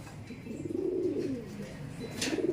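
Soft, low pigeon cooing, repeated a few times, fairly faint with light background noise.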